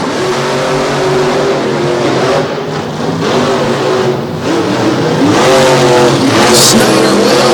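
Racing trucks roar past in a championship final at a Maryland event in Salisbury, loud and close, their engines rising and shifting through repeated revving sweeps while an announcer talks over the noise.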